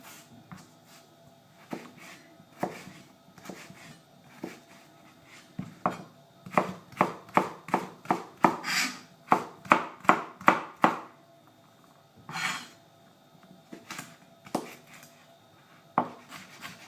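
A knife slices vegetables into thin strips on a cutting board. Scattered cuts speed up into a quick, even run of crisp chops, then slow back to occasional strokes, close and clear.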